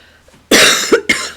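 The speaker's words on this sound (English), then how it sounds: "Sorry, coughing here, I've got the flu" Two harsh, close coughs from a person with the flu in quick succession, the first longer and rougher, the second short and sharp.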